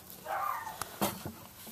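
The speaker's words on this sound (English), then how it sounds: "That's my dog barking again, sorry for that." A dog barks in short, muffled bursts from another room, a few barks over about two seconds with a faint background hum.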